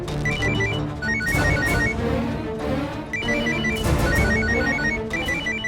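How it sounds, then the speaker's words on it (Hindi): A telephone rings repeatedly in bursts of electronic trills, loud and close, over a steady background of music or ambience. "फोन उठा लो, हो सकता है दामाद जी का फोन हो।"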